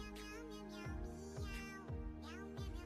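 A small kitten meows several times in a steady drawn-out series, close and clear, over a tonal musical bed.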